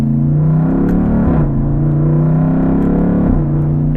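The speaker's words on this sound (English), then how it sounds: "Jeep has thrown in a ZF 8-speed automatic transmission that shifts so well" A 2017 Jeep Grand Cherokee SRT, a 475 hp SUV with a ZF 8-speed automatic, drones loudly and steadily from close range, its engine note dipping briefly at each quick gear change.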